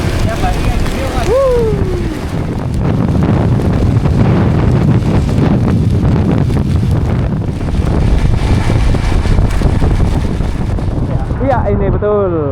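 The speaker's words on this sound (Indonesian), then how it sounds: "Waduh, makin deras hujannya." Heavy rain drums steadily against a bus on a trip from Pare to Jakarta, a dense continuous roar. Passengers talk over it at times, and a faint warbling tone rises near the end.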